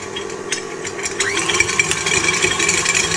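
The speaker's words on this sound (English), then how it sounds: "So I've got my KitchenAid and I'm just zooming up some" A KitchenAid stand mixer grinds bread into breadcrumbs, giving a steady whirring motor with rattling, clattering mechanical noise throughout, close and fairly loud.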